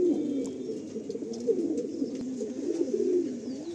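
A pair of young home-bred pigeons coo in a loft, a continuous low rolling murmur of close, soft calls with no talk.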